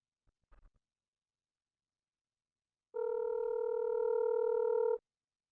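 A telephone line purrs with a steady dial or ringback tone for about two seconds, clear and alone after a brief faint click, as a call is placed to a friend.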